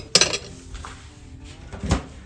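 Ripe tomatoes dropped into a cooking pot for pork spare rib sinigang, heard as a couple of clattering metallic knocks and pot clinks, close and fairly loud with quiet gaps between.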